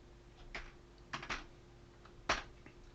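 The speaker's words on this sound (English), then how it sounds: "When I press the tab key on the keyboard, I move to the same starting point." A few soft, sparse computer keyboard key presses while tabs are set in a Word document, quiet isolated taps in a still room.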